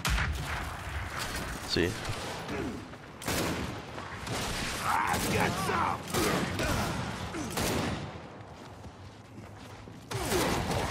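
Gunfire in the video game Gears 5, including Boltok-style pistol shots: repeated sharp bursts and heavy booms in a busy, loud mix, with a voice talking intermittently over the action.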